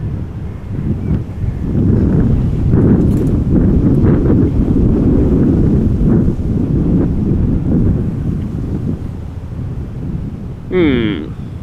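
Strong, gusty wind buffets the microphone at Amsterdam Schiphol Airport, a loud, steady low rumble that holds for the whole stretch, with a brief brighter sound near the end.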